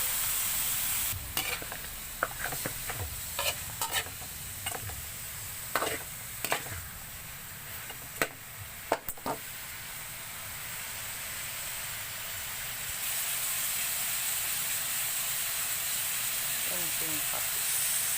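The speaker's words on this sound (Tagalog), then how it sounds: "nilalagay na natin yung karne. Halukay lang ng halukay. Sigsigisahin muna ng ilang minuto." Pork pieces for caldereta sizzle steadily in a pan while a spoon scrapes and stirs them in repeated clattering strokes, close and fairly loud, with the frying hiss rising toward the end.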